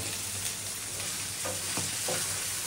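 Spiced bitter gourd (karela) sautéing in a pan, with a steady sizzle and several short scraping stirs of the spatula, quiet and close.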